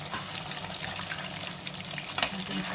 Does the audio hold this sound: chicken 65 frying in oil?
yes